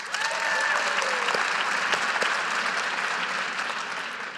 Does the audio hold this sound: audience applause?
yes